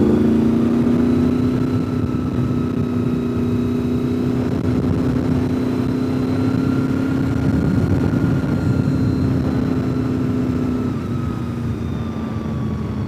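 A loud, steady engine drone of Harley-Davidson motorcycles rolling past on the road at Deals Gap, a deep rumble that holds for several seconds with no talking.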